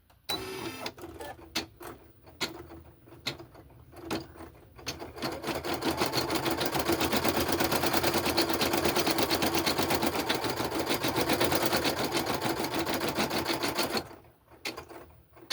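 An embroidery machine stitches an outline in white thread on white felt, its rapid steady needle chatter building after a few start-up clicks, running loud and continuous before stopping abruptly.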